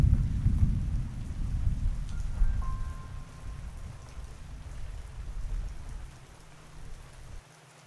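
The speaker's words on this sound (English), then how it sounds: "Those of you who are in the Soundtail will be able to hear distant thunder." Thunderstorm ambience with steady rain on surfaces and deep rumbling distant thunder rolling through the first half, then easing to a fainter rain wash before cutting off.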